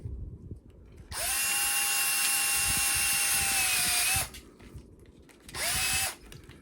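A power drill with a stepper bit cuts into PVC in two bursts: a long steady high whine lasting about three seconds, a short pause, then a second briefer run, close and loud with no talking.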